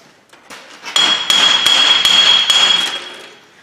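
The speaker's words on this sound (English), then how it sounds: "Get a little hammer." Several sharp metallic taps from a small hammer on a vehicle drive shaft during U-joint replacement, close and loud, each with a bright ringing tone that sustains between strikes.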